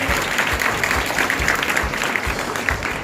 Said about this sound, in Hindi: एक बार जोरदार तालियां, सभी बच्चे एक बार जोरदार तालियां हो जाएंगे।